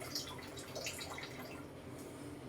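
Water trickles and splashes steadily into a Thermomix bowl, a soft continuous pour with light dripping detail, fairly quiet and close.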